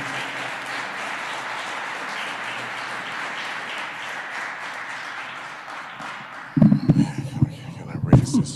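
Sustained audience applause at a city council Black History Month celebration in Albany fills most of the clip evenly, then gives way to a voice speaking close to the microphone.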